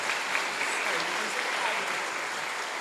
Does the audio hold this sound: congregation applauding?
yes